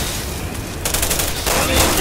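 Enemy gunfire in Resident Evil 6: a dense burst of rapid shots that swells loud after the first second and keeps hammering to the end, close and harsh over game noise.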